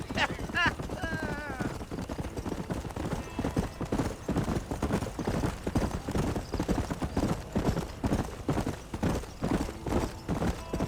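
Horse hooves in Red Dead Redemption clop in a fast, steady trot close by, with a brief whinny near the start and a voice speaking over the rhythm.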